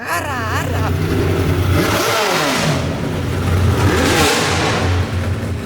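A 900-horsepower naturally aspirated NASCAR V8 in a Toyota Tacoma performance truck revs loudly and sharply, its pitch sweeping up and down in two quick bursts over a steady idle rumble, with no talking.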